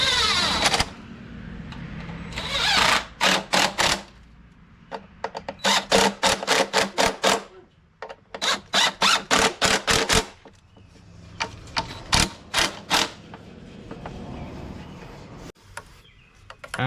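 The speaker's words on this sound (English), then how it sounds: "I'm going to use an impact on it." An impact wrench tightens a fastener into ABS plastic during a temperature sensor replacement on a 2021 Chevy Blazer, firing in several close, loud rattling bursts of hammering separated by short pauses.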